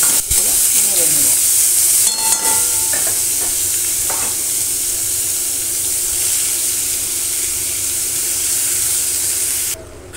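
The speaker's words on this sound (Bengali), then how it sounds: "আমি এখানে চাল কুমড়োগুলো অ্যাড করে দেবো। অল্প অল্প করে দেবো আর করে নেড়ে নেব।" Chopped ash gourd is stirred in a hot pan over fried five-spice tempering, giving a loud, steady sizzle and hiss with a few scraping stirs near the start.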